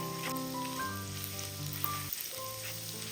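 Chopped garlic sizzling in hot oil in a pan while being stirred, a steady close frying hiss with soft stirring scrapes and faint background music throughout, no talking.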